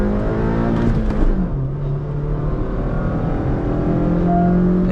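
A Hyundai Verna and a stage 1 tuned Honda City accelerate hard side by side in a drag race, engines revving loud and close with rising and shifting whine throughout.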